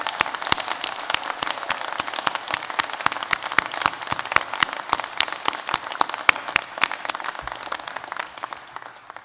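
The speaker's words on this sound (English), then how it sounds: "I want to begin just by everybody giving you a round of applause so that we can just acknowledge what you've done." Audience applause at an Ulster University graduation ceremony at Magee campus in Derry/Londonderry, a dense, loud round of clapping from a large crowd that holds steady and then thins out near the end.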